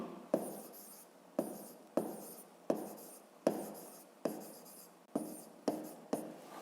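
A pen writes math on paper in short rhythmic strokes, about ten scratchy taps spaced roughly half a second apart, close and quiet with no talk.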